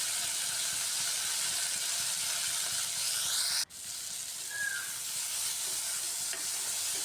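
Flat beans fry over full gas heat in a steady, hissing sizzle that runs close and constant, briefly dipping once as the pan is stirred before resuming.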